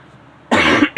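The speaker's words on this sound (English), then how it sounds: "In the background, under the recording, they hear a cough." After a moment of near-silence, a single sharp cough bursts out close by, followed by the start of a second one.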